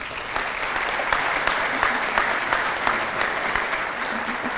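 Audience at the 2019 Central Ohio Senior Hall of Fame induction ceremony applauds, a full, steady round of clapping in a large hall with a faint voice beneath it.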